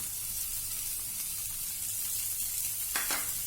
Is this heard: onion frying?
yes